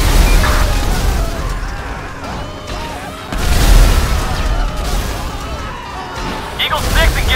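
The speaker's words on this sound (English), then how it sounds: "Citizens report vehicle explosion on" Loud booming blasts and crashes of a vehicle explosion in Grand Theft Auto V, with rumbling low end and bursts around the start and middle, under a steady wash of effects.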